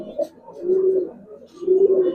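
A giribaz pigeon coos in two drawn-out, low purring phrases, close and clear, with a short gap between them.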